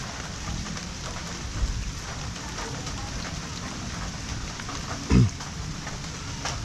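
Steady rain falls over a garden of tomato plants, a soft continuous hiss of drops with one brief low thump partway through and no talking.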